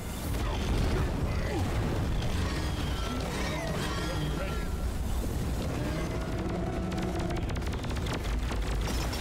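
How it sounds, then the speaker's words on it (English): Dense, chaotic bursts of explosions and crashing debris in the video game Deep Rock Galactic pile up continuously, loud and overlapping, with sharp blasts and rumbling booms throughout. "That's a lot of explosions."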